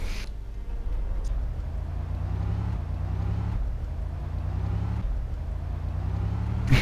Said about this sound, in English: This ambulance is rubbish!